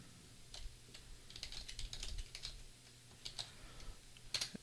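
Quick, light clicks of computer keyboard keys typing an IP address on an Ubuntu server setup, a short irregular burst of keystrokes close and quiet, with no talking.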